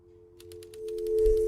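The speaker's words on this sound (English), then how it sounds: "All more typing." Keyboard typing in the video game Before Your Eyes: a quick run of light key taps, about a dozen evenly spaced clicks, moderately close, over a steady low tonal hum and soft game ambience.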